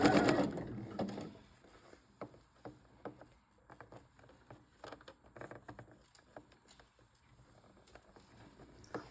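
A sewing machine runs a zigzag stitch, width and length 3.5, along elastic lace on jersey, heard as bursts of quick mechanical patter and clicks at close range, with no talking.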